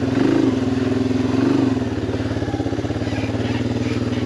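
A Yamaha TT-R250 dirt bike works along hard single track, its engine throbbing and revving close by in uneven pulses with some clattering.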